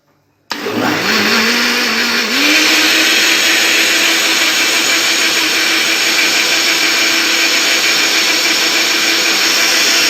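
An electric blender mixes cheese spread with softened butter and salt, starting abruptly and rising in pitch before settling into a loud, steady whir close by, running alone.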